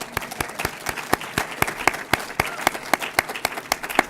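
Audience applause at an awards evening for the master of ceremonies: a dense, even patter of many hands clapping fast and sharp, sustained for several seconds at moderate loudness.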